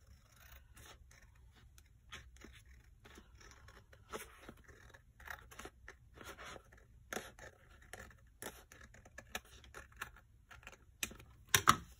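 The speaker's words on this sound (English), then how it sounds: "So trim this edge off" Scissors trimming the edge off a handmade removable folio, a long run of small crisp snips and scrapes in an uneven rhythm, close and fairly quiet, with a few sharper cuts toward the end.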